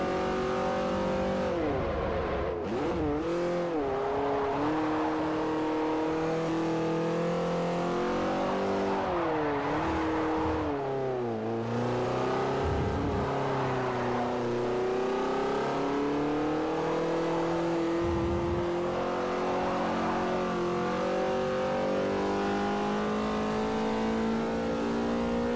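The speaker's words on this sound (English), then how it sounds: "I should expect the Mustang to sound good." A Ford Mustang's engine in the racing game Forza Motorsport 4, revving steadily with rising and falling pitch through gear changes, loud and continuous with no talk.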